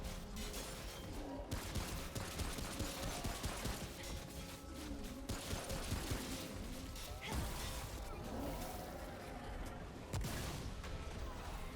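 Rapid gunfire and crashing impacts from the Remnant: From the Ashes video game fill the whole stretch as dense, continuous volleys, loud and chaotic, with no clear gaps.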